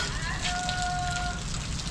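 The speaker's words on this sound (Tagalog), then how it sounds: "umuulan" Steady rain falling early in the evening, a dense, even hiss of drops hitting surfaces nearby, continuous throughout with faint tonal background sounds.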